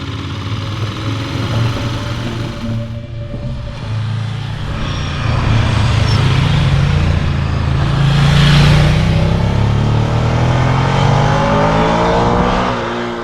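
A 1993 Ducati Monster 900 motorcycle engine runs steadily while being ridden, a loud continuous rumble that swells and pulls harder partway through, with no talking.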